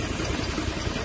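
A Mitsubishi 6M60 engine with low power idles with its valve cover off, a slight misfire barely noticeable in the steady, dense low rumble that runs evenly through the short stretch.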